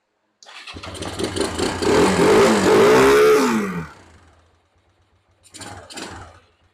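A Kawasaki motorcycle engine cranks and catches, revving loudly for about three seconds before sputtering and dying to near silence, then a second brief rough burst as it fires again, struggling to hold an idle.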